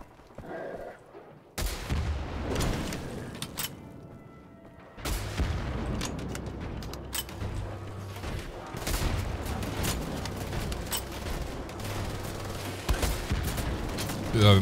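Repeated gunfire from a six-shot weapon in Wolfenstein: The Old Blood, sharp bursts over a constant rumbling backdrop of explosions and action noise, loud and close.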